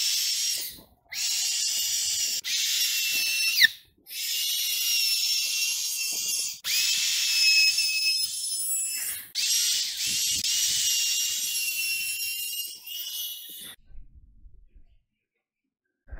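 A router trims thin laminate along the edge of an arcade cabinet, a loud high whine that runs in several long passes broken by brief pauses, then ends in silence.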